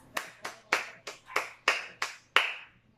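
A classroom of pupils claps in a quick, rhythmic sequence of about eight sharp, distinct bursts, close and clear with no talking over it.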